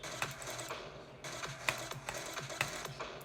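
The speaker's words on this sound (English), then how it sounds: "if you can hear my mouse clicks, good" Quiet, sharp computer mouse clicks during a Geometry Dash session, tapping in an irregular, quick rhythm over steady background game audio.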